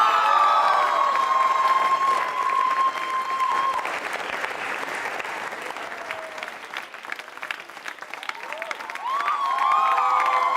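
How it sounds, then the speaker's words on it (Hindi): Loud, sustained applause with cheering and whoops from a school crowd, honoring a classmate's dance performance, swelling again toward the end amid scattered shouts. "उनके सम्मान में बजाइए जोरों से तालियां"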